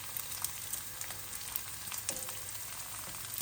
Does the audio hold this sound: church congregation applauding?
no